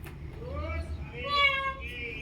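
A cat meows twice in drawn-out rising calls, close by, over low background rumble and faint room noise.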